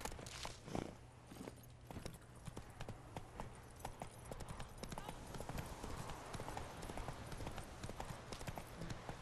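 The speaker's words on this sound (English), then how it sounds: "I'm gonna run away from the horse to see if it catches up to me." Horse hooves clip-clop at a steady walking rhythm in The Witcher 3 video game, the sound of the mount close by with faint game ambience around it.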